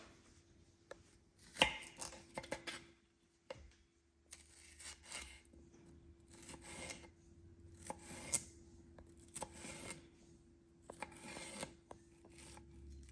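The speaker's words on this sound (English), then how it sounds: "I am going to cut the pepper strips into about 4ths." A knife chops bell pepper strips on a cutting board for Mexican coleslaw, making irregular bursts of sharp cuts with pauses between them. A low steady hum sits underneath throughout.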